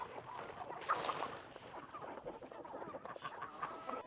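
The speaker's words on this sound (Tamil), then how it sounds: "இதெல்லாம் எங்கண்ட ஊர்கோழிகள் மாதிரியும் இருக்கு" Village-style chickens on a farm in Canada cluck and squawk in a busy flock. The calls overlap close by at a steady, moderate level, with a louder squawk near the start.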